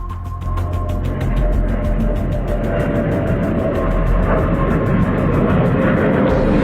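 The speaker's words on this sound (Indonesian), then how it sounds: "Pesawat-pesawat Firefly masih berpatroli di angkasa." Firefly military aircraft on patrol pass overhead near the Pasir Putih coast at Situbondo in 1947, a loud, steady propeller engine drone that fills the whole stretch without letup.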